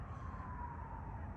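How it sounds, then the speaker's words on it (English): An ambulance siren wails steadily with a slowly falling pitch, continuous across the moment over low traffic rumble and background noise, fairly faint and somewhat distant. "you hear the ambulance coming"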